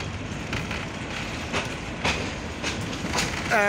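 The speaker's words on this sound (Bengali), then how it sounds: "লোকাল ট্রেনে ভ্রমণ চলতেছে।" A local train runs on the rails just after leaving Parbatipur Junction, with a steady rumbling roll and faint rhythmic clickety-clack of wheels over rail joints.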